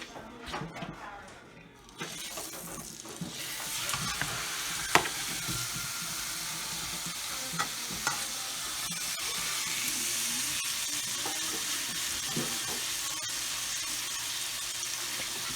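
Pastured steak sizzling in a hot pan with butter, the frying growing louder and steadier after a quieter opening, close-up, with someone talking over it and occasional clinks of utensils.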